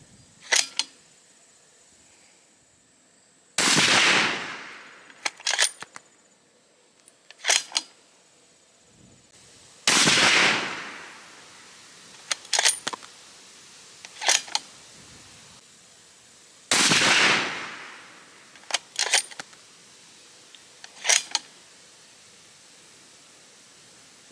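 Five rifle shots from a Colt CBX precision rifle firing ELD-M 168 grain ammunition outdoors, each a sharp report with a trailing echo, spaced several seconds apart, with clicks of the bolt cycling between shots.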